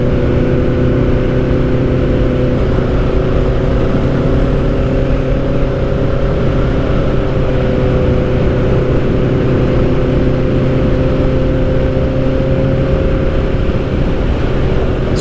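A motorbike engine strains steadily on a long uphill climb during a night ride, a loud continuous droning hum with sustained low tones and constant wind noise throughout.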